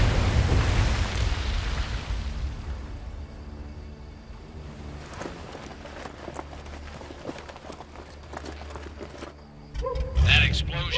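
An explosion in the video game Medal of Honor: Above and Beyond erupts loudly with a heavy low rumble that slowly decays. Scattered clatter and game sounds follow, with a second burst near the end.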